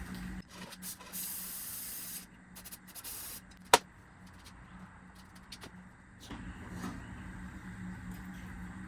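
Carb cleaner sprayed through a line on a 1970 Triumph TR6, heard as steady hissing spurts, one sustained burst and later a shorter one, with a sharp metallic tick in between in a quiet garage.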